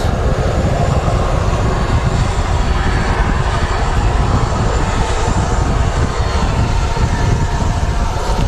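Aircraft engines roar loud and steady at Manchester Airport, a continuous broadband rumble with no break and no voices.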